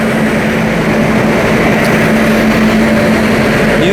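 A WAP-7 electric locomotive hauls the Hubli–Bengaluru Jan Shatabdi Express, giving a loud, steady rumble with a faint whine, heard close and continuous without speech.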